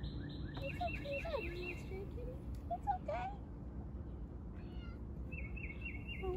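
Several cats meow repeatedly, with rising and falling calls scattered throughout, fairly faint, while people talk quietly nearby.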